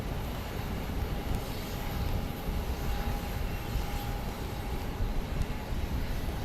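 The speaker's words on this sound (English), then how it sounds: "here comes our Delta Connect flight" Broadband engine roar from a Delta Connection plane at Phoenix Sky Harbor airport, a steady distant rumble with a faint whine holding throughout, no speech over it.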